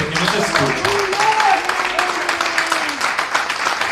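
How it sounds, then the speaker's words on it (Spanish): A church congregation applauds in praise of God, dense clapping running throughout with raised voices and shouts rising above it. "vamos a darle un gran aplauso a nuestro Padre Celestial"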